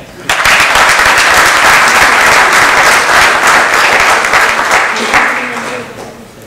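Audience applause at a legal forum on Mexico's new anti-corruption prosecutor's office: a loud burst of many hands clapping together, sustained for several seconds and then fading out toward the end.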